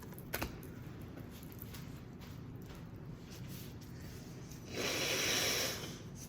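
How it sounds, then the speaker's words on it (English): A short, loud nose blow bursts out near the end after quiet rustling and a few faint clicks, close to the listener. "I have to blow my nose,"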